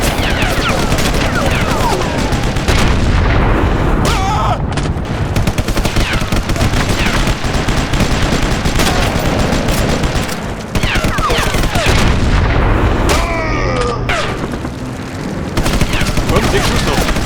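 Sniper Elite video game gunfire, loud and continuous: rapid bursts and volleys of shots with booming impacts and ricochet-like whistles, layered densely throughout with only brief dips.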